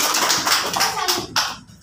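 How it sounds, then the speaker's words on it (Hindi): Children clapping in a government school classroom during an alphabet game, a short run of quick, sharp hand claps close by, mixed with kids' voices and talk. "जाओ बेटा ताली बजा दो"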